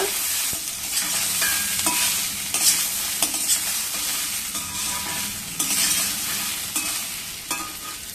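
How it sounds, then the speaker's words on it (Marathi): Potatoes sautéing in a pan for a fasting bhaji give off a steady, loud sizzle, with the scrape of a spatula stirring them now and then. No voices are heard. "आता आपण छानसं परतून घेऊया बटाटा"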